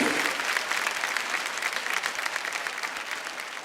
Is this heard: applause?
yes